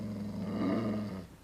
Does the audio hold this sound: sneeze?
no